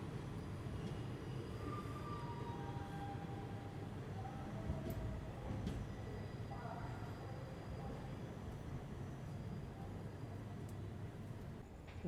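Murudeshwar Express hauled by a WAP-7 electric locomotive, departing Bengaluru: a steady, continuous rumble of rolling train wheels and carriage noise fills the whole stretch at even loudness, with faint speech mixed in.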